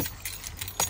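Car keys for a Land Rover Defender jangling as they are pulled from the ignition, a short bright metallic rattle with a sharper clink near the end, close and alone.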